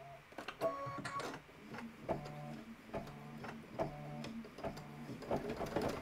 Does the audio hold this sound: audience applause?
no